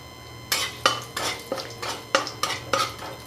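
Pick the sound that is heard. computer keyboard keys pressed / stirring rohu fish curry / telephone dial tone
stirring rohu fish curry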